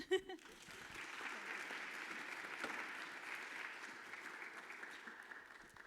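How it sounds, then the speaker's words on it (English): An audience applauds steadily for several seconds, a dense wash of clapping that stays fairly even in loudness from start to finish. "So a big applause."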